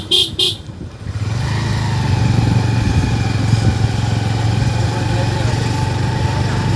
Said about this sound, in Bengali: মোটর সাইকেল নিয়ে এসেছে মাছ ধরতে